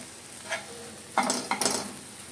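Egg bhurji sizzling in a pan while being stirred, a soft scrape followed by two bursts of stirring and frying sizzle, close and brief.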